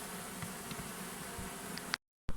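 A wild honeybee swarm in August, heard as a steady, dense buzzing hum close by that runs on continuously before cutting off abruptly near the end.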